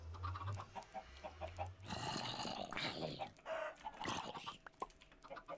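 Chickens cluck in short, repeated bursts with a rooster-like call, heard amid other video game noises and rustling, moderately close.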